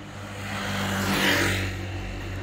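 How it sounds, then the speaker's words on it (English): Road traffic passes along a street where an ambulance is parked, a single car's engine swelling to a peak and then easing off over a couple of seconds, with a steady low hum underneath and no voices. "Dodging the traffic as we go."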